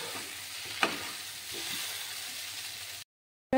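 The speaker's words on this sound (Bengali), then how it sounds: "রাখা আলুগুলি দিয়ে আবার 1 মিনিটের মতো ভালোভাবে কষিয়ে নেব।" Potatoes being sautéed for aloo dum sizzle steadily in a hot pan, with a sharp clink of stirring early on, before the sound cuts off abruptly near the end.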